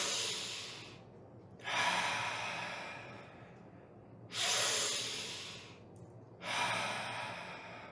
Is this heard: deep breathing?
yes